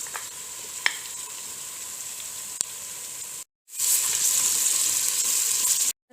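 Steady hissing sizzle of ginger garlic paste frying in a hot pan, with a couple of faint clicks, a brief cut, then louder sizzling resumes.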